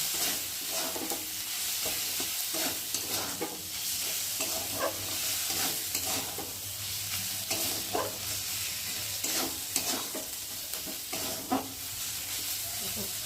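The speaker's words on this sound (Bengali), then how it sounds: "আর এখন আমি চিংড়ি মাছগুলোকে সাইড থেকে লাগিয়ে একসাথে মশলার সাথে কষিয়ে নেব" Prawns sautéed with spices in a pan sizzle steadily, with repeated scrapes and knocks of stirring over a continuous frying hiss, close and fairly loud throughout.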